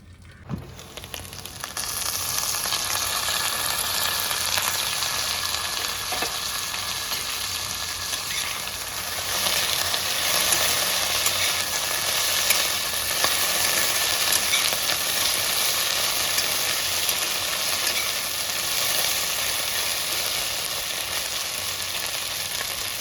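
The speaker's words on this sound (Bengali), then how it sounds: "গ্যাস সিম করে দিলাম ধিমে আছে এটা একটু ভাজা সিদ্ধ রান্না সব একসঙ্গে হয়ে যাবে" Vegetables fry over a low gas flame in a pan, giving a steady, close hiss and sizzle that swells slightly midway and continues unbroken, with no talking.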